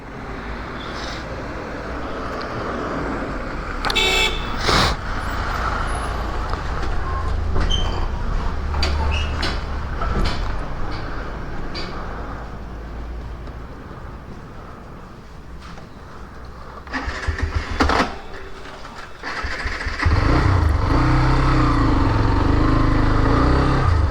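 A Rapido motorcycle taxi in Lucknow starts up and sets off on a ride, with steady road and engine rumble, wind noise and passing traffic, plus a few clunks and a louder surge near the end.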